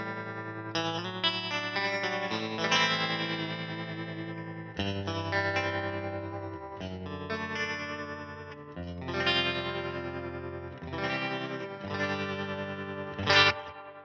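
An electric guitar plays through a small Fender amp, with chorus and distortion colouring sustained chords and phrases that ring out in repeated bursts with brief pauses.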